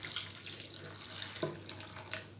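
Tap water runs steadily over green grapes being washed in a sink for juice, a close, continuous splashing stream with slight gurgles and no talking.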